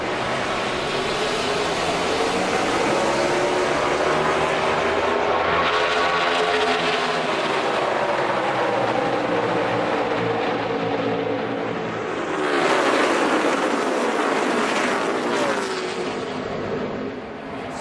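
A pack of NASCAR race cars at Pocono Raceway roaring back up to speed on a green-flag restart, a loud continuous engine wail that swells as cars pass and surges again near the end, with no talk.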